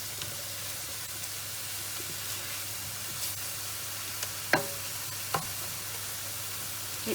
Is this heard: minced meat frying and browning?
yes